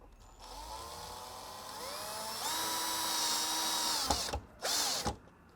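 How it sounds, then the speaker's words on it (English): A power drill whines steadily through a thin plastic panel, its pitch rising and shifting as the bit bites, then two short bursts of drilling near the end, close and loud with no talking. "don't get too excited with the power drill because this is very thin, this piece of plastic"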